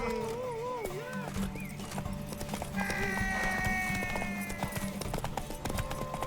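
Rhythmic hoofbeats of a galloping horse in The Witcher 3: Wild Hunt pound steadily during a horse race, with a whinny and shouting voices over a lively game soundtrack.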